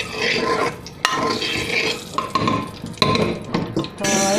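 Eggplant pieces being mixed in an oiled pan, with a continuous frying sizzle, scraping strokes and occasional sharp clinks of a utensil against the metal pan, fairly loud and close.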